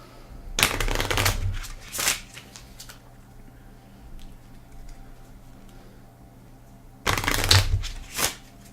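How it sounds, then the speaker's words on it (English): Playing cards being shuffled for the board game This War of Mine: The Last Day, two close riffling bursts near the start and another after a quiet pause, each a quick crisp flutter of cards. "So let's shuffle."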